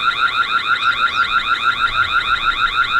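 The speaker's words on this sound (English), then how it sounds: "Alarm sound test." Tapo C575D security camera siren during an alarm test, a loud, close, steady warbling electronic wail cycling rapidly and evenly, with no talking.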